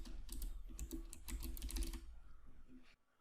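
Rapid typing on a computer keyboard, a quick run of close, soft key clicks for about two seconds with a few last taps, quiet and alone with no talking.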